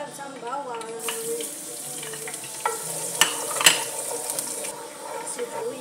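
Garlic sizzles in hot olive oil in a pan for a home-style vegetable chop suey, a steady close crackle broken by a few sharp clinks of stirring, with a faint voice in the background.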